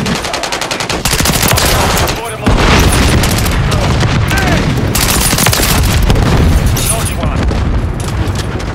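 Gunfire in the video game Call of Duty: Modern Warfare III, with loud rapid machine-gun bursts and booming shots that pause briefly, then resume nearly continuously, while voices shout over the fire.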